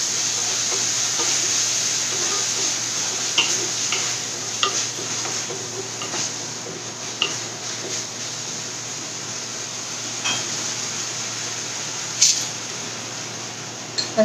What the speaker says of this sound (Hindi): कश्मीरी चिली पेस्ट है वो 2 टेबलस्पून डाल देंगे। और मिक्स करेंगे।